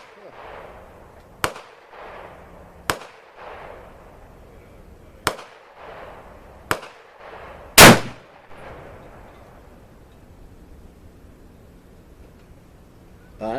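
Several sharp, loud rifle shots from a Savage Axis XP chambered in .30-06, fired one at a time with pauses of a second or more between them. Each crack rings out briefly, and people talk quietly between shots.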